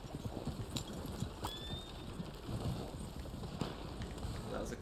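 Horse hooves clip-clopping in Red Dead Online, a faint irregular thudding under wind and ambient noise, with a short whinny-like tone partway through.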